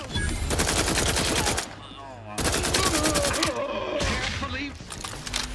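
Rapid bursts of powerful gunfire from a heavy gun in The Outer Worlds 2, played on hardest difficulty, loud and close, with a short pause partway and speech-like game voices mixed in.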